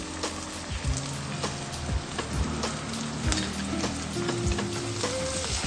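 Onion with garlic paste and salt sautéing in a pan, a dense close sizzle with repeated spatula scrapes and knocks against the pan, loud and steady.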